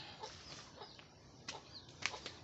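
Soft, scattered chicken clucks and chirps at low level from hens and young chicks, a few brief sharper peeps near the end, no talking.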